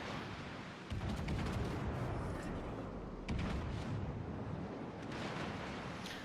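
Heavy naval gun salvos from warships in a battle game, rumbling at a steady loud level with two sharper booms near the start and middle over a continuous sea-like roar.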